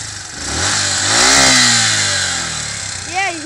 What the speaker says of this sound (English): Yeah, you hear the engine yell?